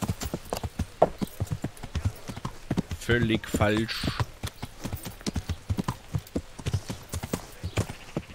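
Horse hooves clip-clop steadily on the ground in the medieval game Kingdom Come: Deliverance, a close, regular rhythm running through the whole stretch while someone talks over it.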